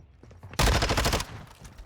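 Gunfire in Call of Duty during a competitive collegiate esports match: a sudden loud burst of rapid automatic shots lasting under a second, then tapering off into quieter scattered game sounds.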